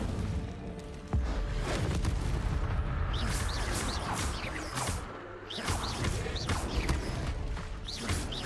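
Incendio fire spell cast in the video game Hogwarts Legacy, a burst of booming, crackling blasts with rapid popping bursts and mechanical creaks that rise and fall over several seconds.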